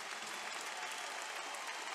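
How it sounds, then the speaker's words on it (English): A badminton hall crowd in Huelva, on its feet, applauds in a dense, steady wash of clapping that holds evenly throughout. "As the crowd now on their feet, everyone on their feet here in the Carolina Marin Hall."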